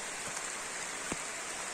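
Rain falling at a river pool, a steady hiss of drops on water with a couple of sharper splashes standing out, fairly close and continuous.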